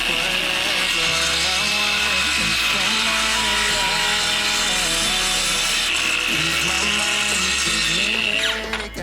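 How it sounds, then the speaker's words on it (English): A power sander whirs steadily against a wooden kitchen or dining room piece before staining, a continuous gritty hiss running under loud background music with singing. "So I did end up sanding this down before staining it."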